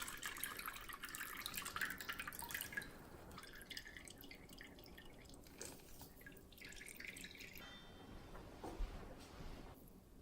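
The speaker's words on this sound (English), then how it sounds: "squeezing the filter bag" Makgeolli rice wine drips and trickles from a squeezed filter bag, quick close drips and small splashes in uneven bursts, quieter in the second half.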